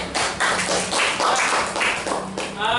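A classroom of students claps hands together in quick, rhythmic bursts, a patterned group clap heard up close for a few seconds.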